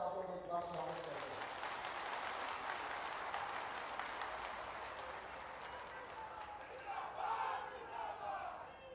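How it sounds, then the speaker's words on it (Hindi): Large crowd at a public development-project inauguration event in Chandauli welcomes Chief Minister Yogi Adityanath with sustained thunderous applause and cheering shouts, loud and distant-sounding, swelling again near the end. "हम चाहेंगे कि तालियों की गड़गड़ाहट से आप लोग एक बार स्वागत करें।"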